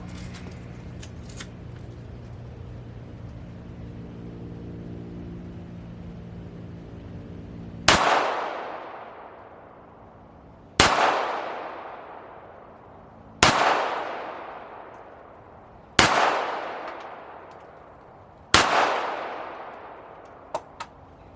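An FN FNS9 pistol fires mid-level test loads: five sharp, loud shots spaced about two to three seconds apart, each with a decaying echo, after a stretch of low background hum.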